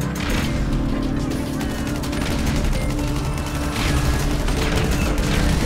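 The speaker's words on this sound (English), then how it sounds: "so many explosions! I can't see where I shoot!" Dense video-game gunfire and explosions during a gang shootout in a Grand Theft Auto-style street fight, a loud continuous barrage of rapid shots and booms with voices talking over it.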